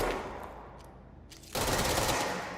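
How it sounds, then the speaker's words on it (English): Machine gun fire in the video game Control, a dense, loud burst of rapid shots that starts abruptly partway through and keeps going to the end, following a quieter stretch of game ambience. "So we got a machine gun and we got a normal pistol"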